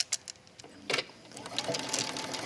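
A sewing machine stitches a French seam in fabric, running in short bursts of rapid needle chatter with brief pauses, close and clear.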